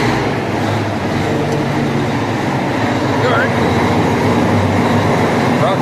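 A tractor engine idles nearby while its transmission oil warms, a steady low rumbling drone with mechanical clatter that holds constant and fairly loud for several seconds, with no one talking.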